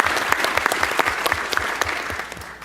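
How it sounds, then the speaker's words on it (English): Conference audience applauding steadily throughout, a dense, even wash of many hands clapping with a few sharper claps standing out, fairly close and loud. "let's just do a hand of applause for Arne"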